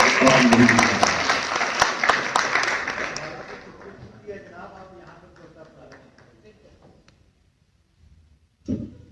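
Loud audience applause at a poetry session dies away over several seconds into quieter scattered claps and room noise, ending in a short thump.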